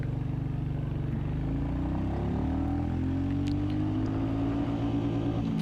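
2021 Royal Enfield Classic 350 motorcycle accelerating hard in first gear, its engine note climbing steadily in pitch as revs build, loud and close throughout with no talk.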